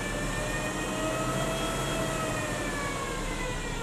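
BMW EV conversion accelerating hard in fifth gear, a steady loud whine with several rising electric-motor tones over broadband road and wind roar, continuous throughout.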